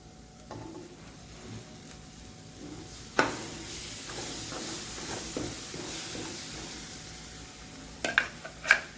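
Gravy poured into a pan of sizzling paneer mixture, a steady frying hiss with soft stirring scrapes and a few sharp clinks of a utensil against the pan near the end.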